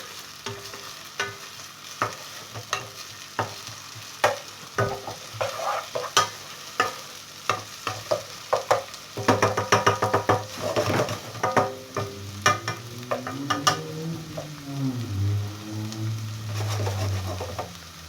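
Onion frying in a pan, a close, steady sizzle with frequent clacking spoon stirs and scrapes throughout, swelling louder and busier partway through, with no voices.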